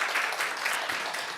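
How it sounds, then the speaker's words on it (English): Applause from an audience at a university student sustainability conference in Seoul, a dense steady patter of clapping that fills the whole short moment without pause. "Can you give a big round of applause?"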